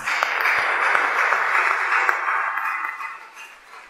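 A hall full of people applauds a judge at a book presentation, a dense, even patter of clapping that holds steady before tapering off near the end.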